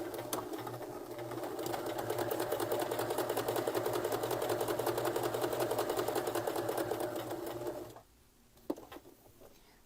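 A sewing machine stitches a handmade cloth rag doll, running in a fast, steady, close-up rhythm for about eight seconds before stopping, followed by a quiet pause with a single faint click.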